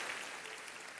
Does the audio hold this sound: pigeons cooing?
no